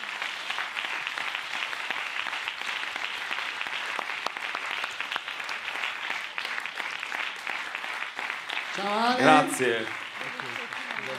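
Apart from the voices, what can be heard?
festival audience applauding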